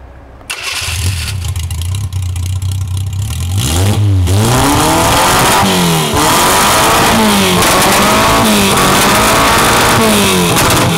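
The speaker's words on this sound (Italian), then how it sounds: "Direi che fa un bel casino questo motore" A Fiat 600 engine starts up and roars loudly, with rising and falling revs sweeping up and down as it is blipped repeatedly, close and continuous with no talk.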